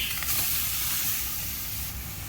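Tomatoes heating in a wok as the first step toward homemade tomato sauce, giving a steady, dense hiss and sizzle that holds evenly throughout, close and fairly loud, with no voices.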